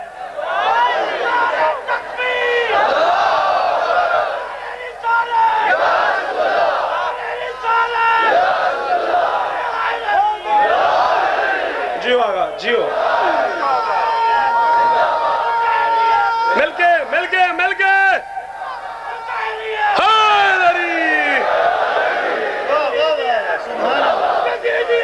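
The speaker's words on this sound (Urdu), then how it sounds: "کیسے نعرہ لگا رہے ہو؟ یہی بنتا ہے،" Large crowd at a religious gathering chants a slogan in loud, rhythmic bursts, answering a leader's calls with roaring collective shouts and brief pauses between repetitions.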